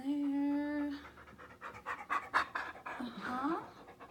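A dog panting in rapid rhythmic breaths near the listener, with a voice briefly heard at the start and end.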